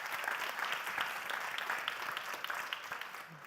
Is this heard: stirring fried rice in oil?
no